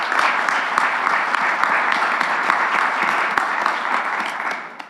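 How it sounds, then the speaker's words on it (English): Applause from an audience at a university Hispanic-Serving Institution week opening forum at UCF, honoring campus champions: steady, dense clapping that stays loud for about five seconds before tapering off at the end. "Another applause for all of our HSI champions"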